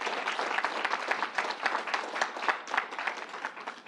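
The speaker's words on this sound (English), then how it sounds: "Give the whole group and the National Guard a round of applause for what you're doing here." A crowd at the New York State Fairgrounds gives a round of applause for a group and the National Guard, with dense, lively clapping that holds steady throughout.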